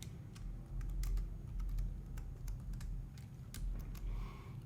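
Irregular light key taps on a computer keyboard while text is typed for an After Effects motion design, close and fairly soft over a low steady hum, no talking.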